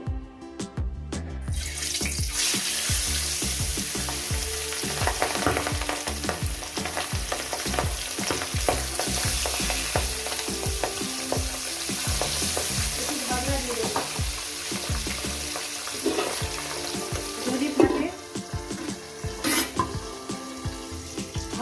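Pabda fish frying in a mustard-poppy seed sauce in a pan, a steady loud sizzle with spatula stirring and scraping clatter throughout, no talking.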